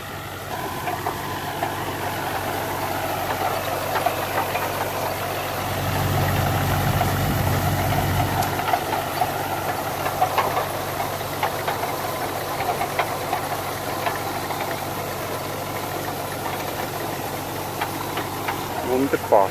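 A Krone Swadro TC 640 rotary rake windrowing alfalfa behind a tractor, a steady engine drone with mechanical clatter throughout and a brief louder low rumble near the middle, while someone talks over it.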